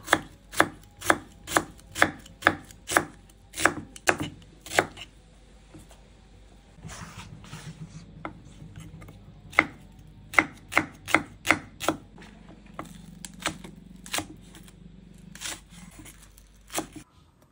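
A knife slicing onions and spring onion stalks chops steadily on a board in quick, even strokes, pauses, then resumes with another run of crisp cuts and a few scattered slices.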